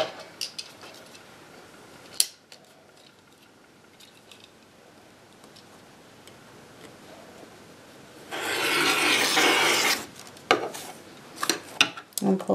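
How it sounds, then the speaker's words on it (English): Rotary cutter slicing through quilt fabric on a cutting mat: one loud, rasping pull lasting about two seconds, followed by a few light taps and clicks. "grab the rotary cutter"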